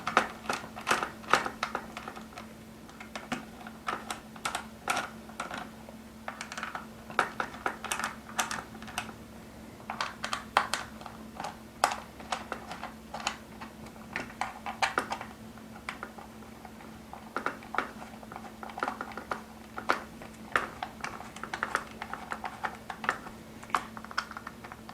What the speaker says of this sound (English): remove the 7 screws that hold the clamshells together